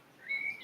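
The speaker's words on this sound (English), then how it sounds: "Let's enjoy our coffee and the peaceful sounds of the birds." A single faint bird chirp outdoors, a brief high whistled note over quiet background noise.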